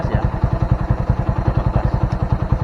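Honda Mega Pro motorcycle engine idling with a fault in its charging system, a steady, even low thumping pulse close by, running alone without pause.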